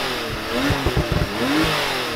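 A Porsche 911 Turbo S (991.2) engine revs up in a couple of quick bursts, a deep throaty roar rising and falling, loud and close with no talking.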